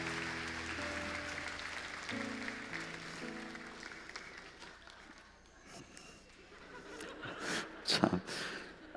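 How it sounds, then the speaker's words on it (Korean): A church congregation at a Sunday worship service applauds in thanks, a broad wash of clapping under organ or keyboard chords that fades midway, then livelier scattered clapping and laughter swelling near the end. "우리 다시 한번 감사의 박수 드리겠습니다"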